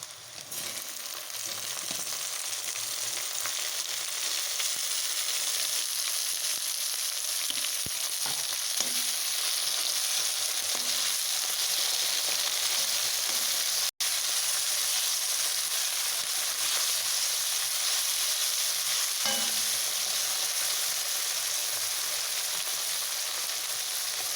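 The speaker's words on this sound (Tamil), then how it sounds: "தக்காளி நல்லா வதங்கட்டும்" Tomatoes for a capsicum dish fry in a pan with a loud, continuous sizzle and crackle, broken by a few soft stirring scrapes and one brief dropout partway through.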